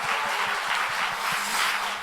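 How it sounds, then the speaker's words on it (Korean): Church conference congregation applauding, a dense, even wash of many hands clapping at close range, sustained and loud with no voices over it. "우리 그렇게 하신 성령 하나님께 다시 한번 뜨거운 영광의 박수 전합니다."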